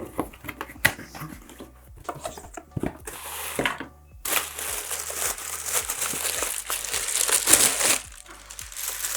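Paper and plastic crinkle and rustle as the packaging of a Kicx RX 70.2 ver.2 two-channel car amplifier is unpacked and the warranty card, manual and branded stickers are handled, with a denser, continuous stretch of crumpling in the second half.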